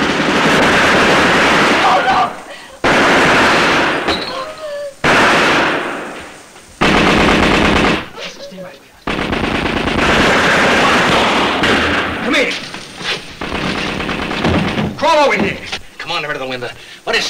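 Thompson machine guns fire in a shootout from a 1931 film, loud rapid bursts of automatic gunfire broken by pauses, with voices shouting between and under the volleys.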